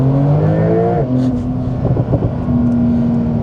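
Porsche 911 Turbo S engine accelerating hard, a loud, close, steady droning growl that drops in pitch at a shift about a second in, then pulls on strongly.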